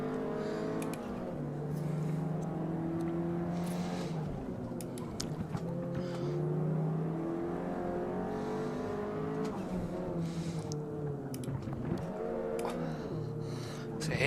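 Racing cars in a video game's practice mode whine and rev continuously, engine tones rising and falling as they accelerate and shift, with occasional passing sounds at a steady moderate level.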